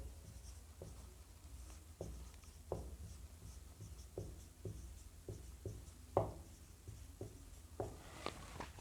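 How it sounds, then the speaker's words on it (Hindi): A maths problem written out by hand, with regular pen or chalk strokes and taps about every half second, close and fairly quiet, heard alone without talk. "देखो अब नेक्स्ट टाइप का सवाल मैं लिखता हूँ यहाँ पर"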